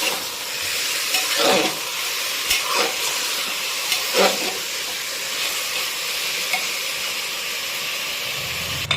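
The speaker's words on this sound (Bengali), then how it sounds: "এবারে এটা পেঁয়াজের সাথে ভালো করে ভাজতে হবে।" Mutton frying with onions in a pan over a medium-low gas flame gives a steady, soft hiss and sizzle, with a few brief clinks and scrapes of stirring scattered through it.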